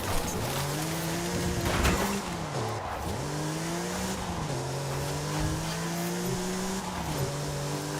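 Ford Focus RS RX Hoonigan rally car driven in a video game, a buzzing engine climbing and dropping through repeated gear shifts, with tire squeal and a steady loud racing drone, no talk.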